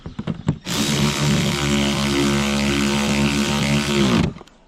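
A power tool whines steadily for several seconds while tightening bolts during a blower fan replacement on a John Deere 3420, close and loud, starting and stopping abruptly after a few short clicks.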